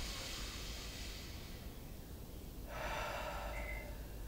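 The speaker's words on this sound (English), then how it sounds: "as you take those breaths, make sure you're breathing down into your ribs" Deep, steady breaths drawn down into the ribs during a mat Pilates class, a soft airy rush continuing throughout with a stronger exhale near the end.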